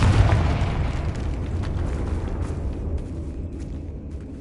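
Confringo fire spell bursting in Hogwarts Legacy: a loud booming blast at the start that rolls into a long, fading rumble with scattered crackles, no voices.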